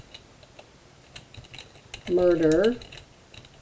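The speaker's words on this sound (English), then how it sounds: "Sorry about the typing." Light, irregular keyboard clicks tapping away quietly, followed by a single short spoken word near the end.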